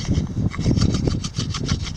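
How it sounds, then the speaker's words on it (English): A rock rubbed back and forth to sand a carved juniper wood spoon, making a steady, close, gritty scraping with rhythmic strokes and no voices. "So let's sand this down for a little bit."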